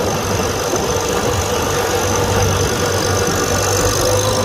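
A 1949 Farmall Super A tractor engine runs steadily nearby, a loud, rough, even chugging with a knocking mechanical rattle and no voices.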